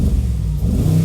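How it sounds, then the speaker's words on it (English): A Mercedes-Benz G63 4x4 V8 with side-exit quad exhaust rumbles close by at idle, a loud, steady deep throb with slight pulsing, heard alone without speech. "You hear that V8 rumble already"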